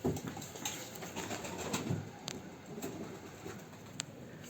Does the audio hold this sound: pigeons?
yes